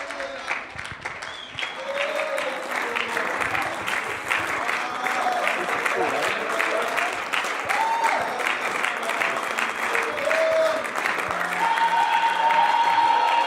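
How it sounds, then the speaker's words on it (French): A church congregation applauds for the Lord during a pastor's sermon, sustained loud dense clapping for over ten seconds with voices and cheers mixed in beneath. "I heard it was said to clap for the Lord."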